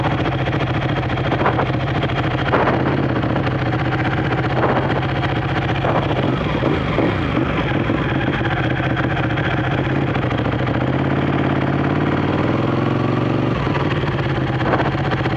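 A cold Ducati 1199 Panigale motorcycle idles steadily and loudly up close, its rough, uneven engine note continuous throughout with small revs and someone talking briefly over it.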